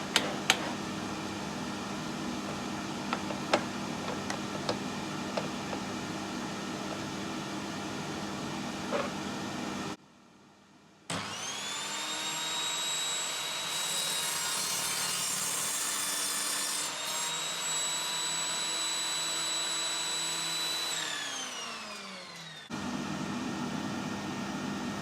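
An Evolution Rage 5S saw cuts through rough scrap wood held in a clamp. After a short pause it spins up into a loud, sustained whine with a rising and falling pitch, then it stops and the motor winds down.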